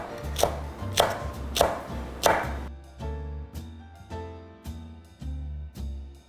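A knife slices green chili peppers on the diagonal for a spicy blue crab kalguksu: four crisp, evenly spaced chops land close and loud, then give way to steady background music with no talking.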